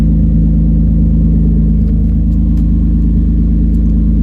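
A car engine idles with a steady, low rumble, loud and close, holding an even pitch throughout without revving.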